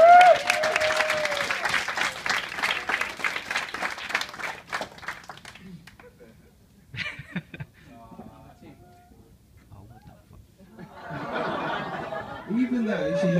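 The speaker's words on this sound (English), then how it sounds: "Come on, give her another clap." Wedding guests applauding during a best man's speech, a burst of clapping mixed with laughter and chuckles at the start, dying away into quieter murmurs before some laughter and chatter return near the end.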